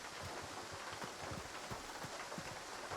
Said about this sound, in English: I guess it's just the raindrops